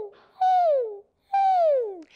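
A human voice imitates a puppy's high whimper, two drawn-out closed-mouth whines that slide downward in pitch, close and clear with a short pause between them.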